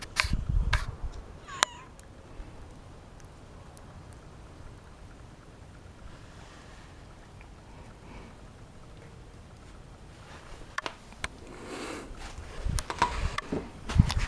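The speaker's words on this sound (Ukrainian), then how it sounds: "Кіт зайшов до хати." A cat meows a few times as it comes indoors from a wintry outside, short calls near the start and again toward the end, with quiet rustling and a soft patter in between.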